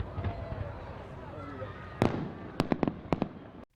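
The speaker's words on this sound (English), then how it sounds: "Pretty incredible fireworks." Fireworks at the Balloon Fiesta go off in a series of sharp bangs and crackles, several rapid bursts close together near the end, over a murmur of crowd voices.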